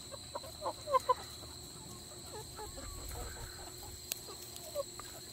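Backyard chickens, with a rooster among them, clucking softly as they peck at tobacco hornworms: a few sharp close clucks early, then scattered quieter calls over steady outdoor ambience with faint insect hum.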